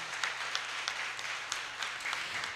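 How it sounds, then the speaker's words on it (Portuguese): A fairly quiet audience gives a short burst of applause at a committee session on science, technology and environmental racism, with soft, scattered clapping under faint room noise. "eu queria primeiro uma salva de palmas"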